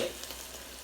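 Ground beef with smoked paprika and coriander sizzles briefly in a pot, a faint, soft crackle of frying that lasts under a second.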